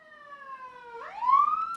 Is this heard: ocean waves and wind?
no